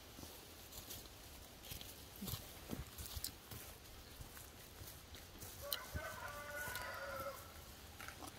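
A rooster crows once, faint and distant, about six seconds in, set against a noisy, rustling outdoor background with scattered knocks and clatters.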